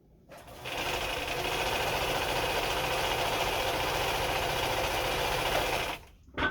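A restored Bernina 830 Record sewing machine stitching, a smooth fast steady whirring hum that runs for about five seconds at close range before stopping, with no talking.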